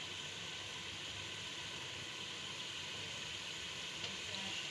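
Beef paya masala fries in oil, giving a faint, steady sizzle that hisses evenly throughout with no talking.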